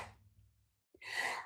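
One sharp sneeze bursts out near the end of a short quiet stretch, preceded by a faint breathy intake, close and fairly soft.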